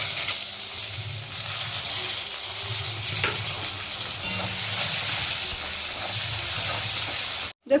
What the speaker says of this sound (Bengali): এবার আমরা দিয়ে দেবো পেঁয়াজ কুচি